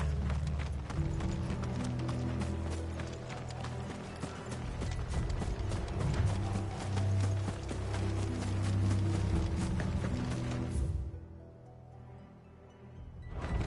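Horses galloping in the video game Final Fantasy XVI, a dense rapid drumming of hooves with mechanical clatter, loud and continuous before dropping away near the end.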